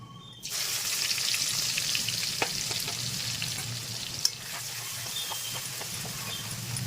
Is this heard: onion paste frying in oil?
yes